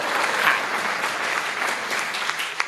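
An audience at a Hindi poetry recital breaks into dense, sustained clapping that fills the whole stretch at an even level, with a crowd of many hands and no talk over it.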